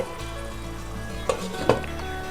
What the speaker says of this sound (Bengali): পটলগুলোকে একটু নাড়াচাড়া করে